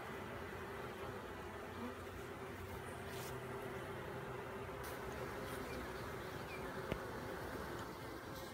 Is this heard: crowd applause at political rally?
no